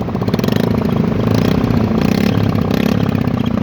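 A new motorcycle's engine idles loud and close with a rough, rapid pulsing throb and an odd, uneven mechanical tone, steady throughout with no talk over it.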